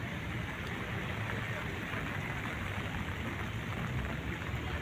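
Rain falling at Burnham Park, Baguio City, a steady low wash of patter and hiss without pauses, fairly faint and continuous, with muffled background murmur.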